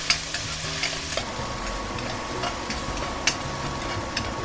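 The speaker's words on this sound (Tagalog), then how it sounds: "Gisahin na natin ang ating sibuyas bombay. Dungan ko na rin ang ahos ah." Onion and garlic sizzle in oil for a chopsuey, a steady frying hiss with intermittent stirring clicks and scrapes against the pan, close and fairly quiet.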